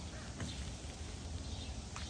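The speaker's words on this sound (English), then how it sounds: "What is that noise? That is a crow." A few harsh, raspy, laugh-like crow caws come from a distance over a steady outdoor garden background hiss.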